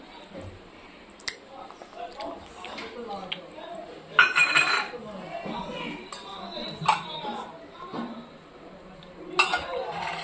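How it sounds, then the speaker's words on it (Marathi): Chopped onion, coriander and homemade sesame seeds are stirred together in a bowl, giving light clinks and scrapes of a spoon against the dish. Someone talks at times over the mixing. "मी हे सगळं मिक्स करून घेते"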